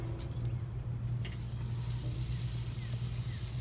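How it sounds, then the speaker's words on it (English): Meat searing on a charcoal grill set up with the snake method for smoking, giving a steady close crackling sizzle over a low rumble, continuous throughout with no talk. "Listen to that sear."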